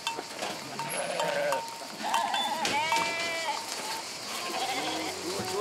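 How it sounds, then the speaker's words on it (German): Several sheep bleat in overlapping, wavering calls, some near and some farther off, over a soft outdoor background in a remote high mountain valley pasture in northern Albania. "Jeden zweiten Tag hütet Christian die Schafe."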